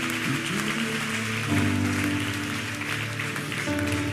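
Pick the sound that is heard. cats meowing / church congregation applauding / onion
church congregation applauding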